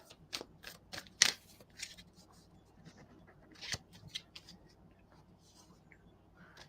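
Tarot cards being shuffled by hand, a run of crisp riffling flutters and light slaps of card on card in bursts, close and fairly quiet with pauses between.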